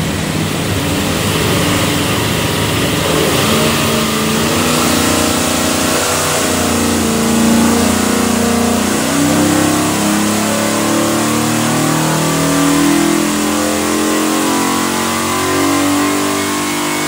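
A 427ci FE V8 with dual carburetors on an engine dyno, a loud, steady roar that climbs gradually in pitch through a long full-throttle pull, with no talking over it.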